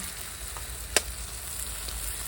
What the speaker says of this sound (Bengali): এবারে আমি দুটো ডিম তড়কা করবো, এবারে ফ্রাই করে নেবো